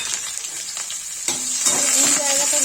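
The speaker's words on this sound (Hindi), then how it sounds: "देखिए गाइस इसमें जीरा डाल दिया प्याज।" Cumin seeds and onion hit hot oil in a pan for a dhaba-style dal tadka, giving a bright crackling sizzle that jumps louder partway through and keeps spitting steadily, with brief stirring.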